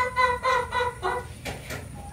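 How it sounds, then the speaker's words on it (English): Chickens cluck close by on a homestead, a few distinct rising calls in a short uneven series with no talking. "I just came out to check if Harriet had laid her egg yet so I could let the chickens out on this beautiful day."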